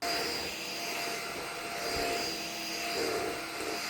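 A TC-Junesun corded vacuum cleaner running, a steady, loud motor whine with a broad airy roar, continuous without pause.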